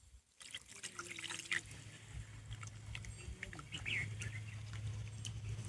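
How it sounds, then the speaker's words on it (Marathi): Boneless chicken is washed in water outdoors on a farm, making quiet trickling and splashing at close range, with faint birdsong and a low hum in the background. "चिकन चिल्ली बनवण्यासाठी आपण आता हे चिकन पहिले धुवून घेऊयात स्वच्छ"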